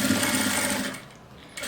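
Sewing machine stitching a fabric pouch, a steady close mechanical whir that slows briefly and then starts again.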